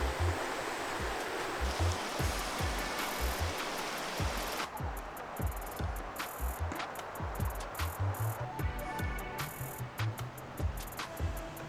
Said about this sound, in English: I particularly liked this river with ice along it.